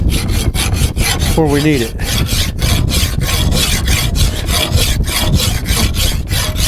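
A file rasps back and forth along a forged steel draw knife blade in steady, rapid strokes. The scraping is loud and close, with a brief whistle-like squeal early on and no talk.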